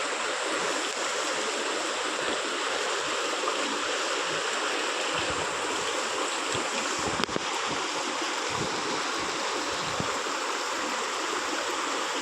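Floodwater pouring across a submerged road, waist-deep in places, makes a continuous loud rushing roar like a fast stream, steady throughout with no voices.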